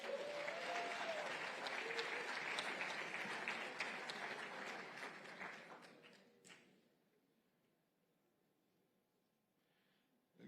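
Audience applause at a diplomatic evening event honoring a band, a full, even round of clapping that fades out over several seconds into near silence before a brief sound at the end.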